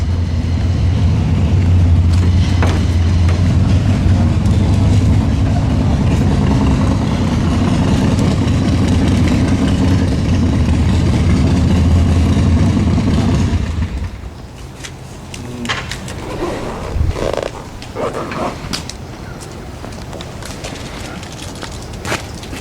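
A loud, deep engine rumble of hardtail motorcycles idling at a race start line holds steady, then drops away, leaving quieter crowd noise and scattered knocks behind.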